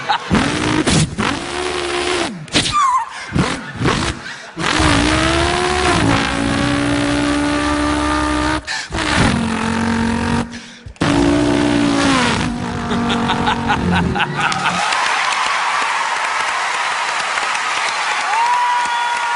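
A human voice imitates a V8 car engine, making a string of revving bursts with rising and falling pitch and brief gaps between them, loud and close, then fading into a sustained rough roar, with clapping audible near the end.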